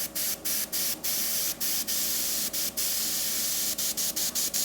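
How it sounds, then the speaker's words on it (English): Steady hiss of an airbrush spraying, broken by a dozen brief pauses as the flow cuts in and out. "you're getting paint and the propellant, which in this case is just air from the air compressor"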